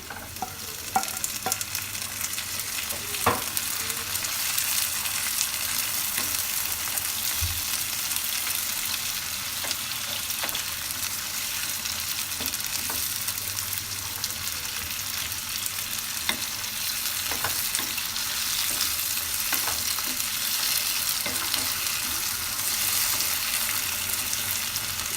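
Onions and sliced tomatoes frying for chicken biryani give a steady, close sizzle with occasional stirring scrapes, continuous and loud throughout with no voices.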